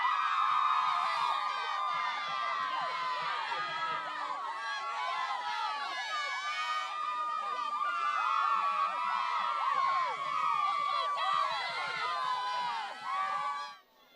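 A rowdy high school football crowd cheers and shouts for cheerleaders at a North Pocono versus Dallas game, a loud, dense, sustained roar of many voices and whoops that continues before fading sharply at the very end.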